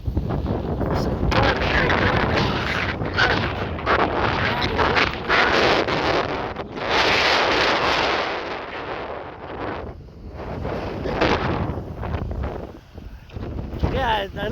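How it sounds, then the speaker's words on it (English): Strong gusts of wind sweep across a field during the pea harvest, roaring and buffeting the microphone in surges that rise and fall. "Whoa, she's windy."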